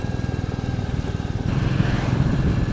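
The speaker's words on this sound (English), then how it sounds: "a lovely light, smooth, economical, quick accelerating" Light motorcycle engine nearby with a steady putter that thickens and rises in pitch partway through as the bike pulls away and accelerates.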